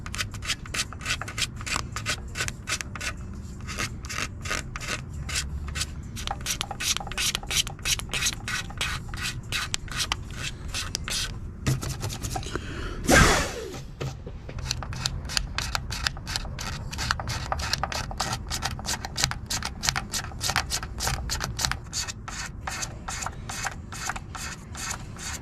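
A razor blade scrapes car paint flat on a Honda CRX strut tower in steady, rapid repeated strokes, close and crisp, with a brief louder swipe partway through and no talking.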